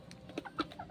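A gamecock rooster gives a few short, soft clucks in quick succession, fairly faint and close with no talking.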